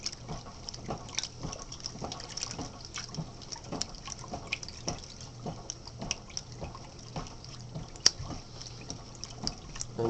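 Soapy water sloshes and splashes in rhythmic surges as a washing machine agitates a load, fairly quiet and without talk.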